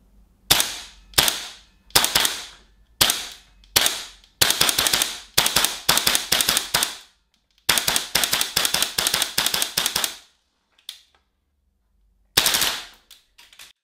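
A GBLS DAS GDR 15 airsoft rifle fires in loud, close bursts of rapid mechanical snaps, several full-auto strings separated by short pauses, ending with a brief final burst.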